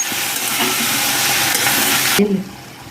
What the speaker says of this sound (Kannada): ಈ ಎಣ್ಣೆಯಲ್ಲಿ ಒಳ್ಳೆ ಮಿಕ್ಸ್ ಆಗಬೇಕು